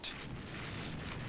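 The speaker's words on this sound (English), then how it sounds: "We each took torpedo hits." A sharp burst opens the moment, then a low rolling rumble lingers quietly as a torpedo strikes a warship in the naval strategy game Rule the Waves 2.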